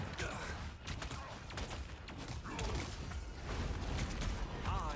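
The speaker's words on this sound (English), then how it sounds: "just kind of running around shooting people like this" Rapid bursts of gunfire in the hero shooter game Marvel Rivals, dense and continuous with mechanical clatter and whooshing effects layered over game action, played at steady loudness throughout.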